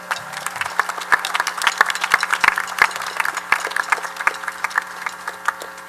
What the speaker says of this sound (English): You can clap for them too, would be nice.